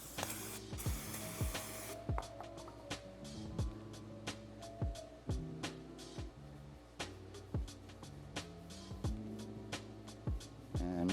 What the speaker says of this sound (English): I'm just going to grab my little cleaning agent over here. Basically just brake clean, carb clean